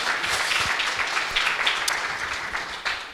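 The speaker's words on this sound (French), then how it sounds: "applaudissez-le très fort." Audience applause after a talk at a conference, continuous dense clapping from a crowd that holds steady for a few seconds.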